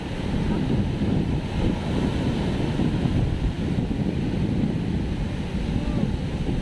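Heavy surf churns and crashes steadily while wind buffets the microphone, a constant rough roar of open sea with no clear voices.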